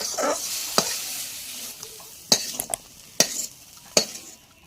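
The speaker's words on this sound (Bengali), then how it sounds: "এরপর এটাকে খুন্তি দিয়ে নাড়াচাড়া করা হচ্ছে" Papad fries in hot oil with a continuous sizzle while a spatula stirs it, scraping the pan in several sharp, loud clicks and knocks.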